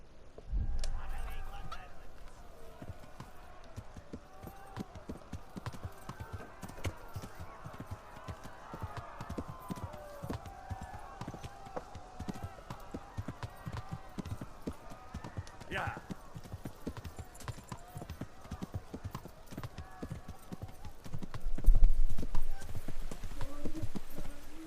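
Horse hooves clip-clop steadily in a cantering rhythm along a path in Kingdom Come: Deliverance, close and continuous, with talk over it and a louder burst near the end.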